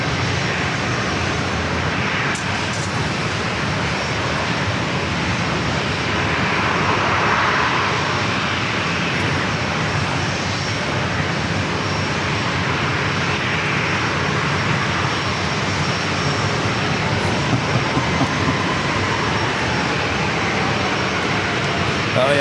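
A British Airways airliner sits on the runway at San Diego airport, its engines giving off a continuous broad roar and hiss at steady loudness, heard from a distance outdoors.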